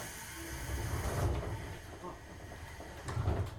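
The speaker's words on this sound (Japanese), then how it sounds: "閉まるドアにご注意ください。" Sliding doors on a JR 103 series 1500 commuter train on the Chikuhi Line shut close by, with a soft pneumatic hiss and a muffled thud, followed by a second bump over a low cabin hum.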